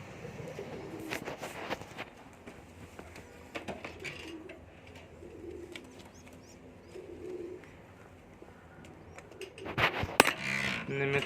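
Pigeons coo softly in a rooftop loft with several birds calling in a low, intermittent murmur, fairly faint, with a louder burst of rustling and movement near the end.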